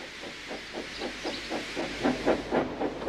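Thomas the Tank Engine steam locomotive puffing away in a steady rhythm of soft chuffs that grow gradually louder.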